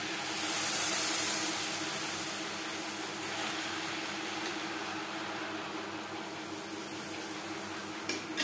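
Boiled milk poured into hot caramel for making yogurt sizzles and hisses loudly at first, then settles into a steady bubbling simmer with faint clinks of a pan close by.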